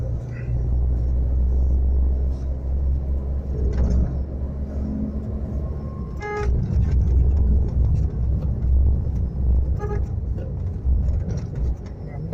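A car engine rumbles steadily as it climbs the hill road up to Kodaikanal, heard from inside the cabin, with a low continuous drone, occasional knocks and rattles, and a person talking over it.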